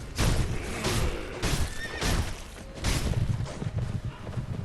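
A horse in the game Sekiro whinnies loudly in repeated bursts over thudding galloping hooves and combat noise, close and continuous throughout.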